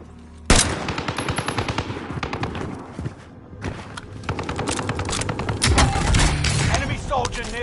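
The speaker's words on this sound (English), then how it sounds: "Shots pinned me" Rapid, loud automatic gunfire crackles in sustained bursts that swell and keep going almost without pause, with a voice partly audible underneath.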